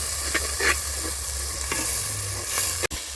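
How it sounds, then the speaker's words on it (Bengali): Ginger, garlic and spices fry in oil for a chicken curry, a steady close sizzle with occasional stirring scrapes and a sharp clack near the end. "মশলাটা খুব ভালো করে কষে নিয়েছি।"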